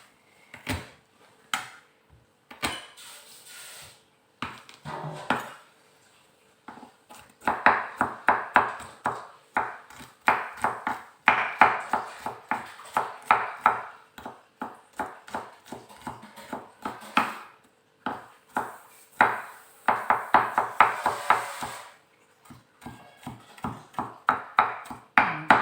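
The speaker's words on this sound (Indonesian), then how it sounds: "Nanti kita cincang halus." A knife finely chopping smashed garlic on a cutting board in a home kitchen, sharp close taps in quick rhythmic runs with short pauses between bursts.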